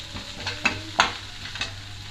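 Onion, ginger, garlic and green chilli fry in a pan on low to medium flame, giving a steady soft sizzle broken by a few sharp stirring scrapes.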